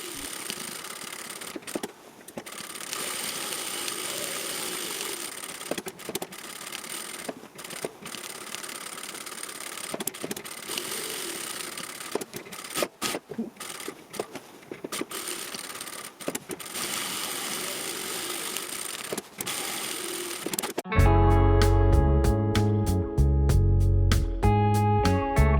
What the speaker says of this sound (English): I sew a quick basting stitch about 2 mm from the edge all the way around the panel